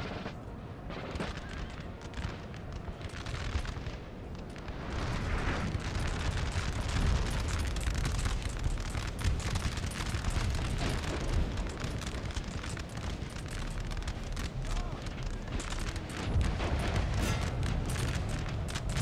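Artillery fire in the Napoleon Total War video game, a dense sustained barrage of booms and crackling volleys rolling on continuously, loud and overlapping with no pauses.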